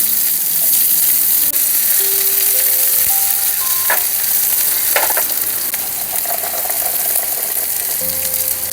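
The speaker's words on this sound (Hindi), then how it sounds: "साथ में दोनों फ्राई हो जाएंगे ना ये।" Vegetables frying in a pan on a winter trip to Solang Valley, a continuous loud sizzle with a few clinks and stirring knocks, no one speaking.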